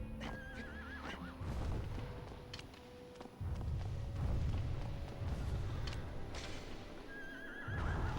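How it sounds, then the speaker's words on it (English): A video game horse in Shadow of the Colossus whinnies several times over dull thumping hooves and low booms, with bright neighs rising at the start and near the end. "He's doing his little horse stomps."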